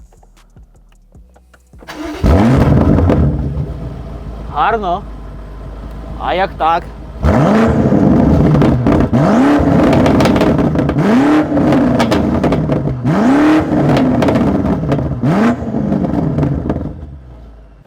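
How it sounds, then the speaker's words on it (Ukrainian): A BMW M8 engine cranks and starts, then revs repeatedly in rising and falling bursts, loud and close, with brief speech in between. "Заведемо і трошки погазуємо."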